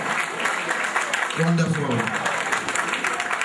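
Audience at a golden anniversary celebration applauding the couple, steady clapping throughout with a voice briefly speaking over it partway through.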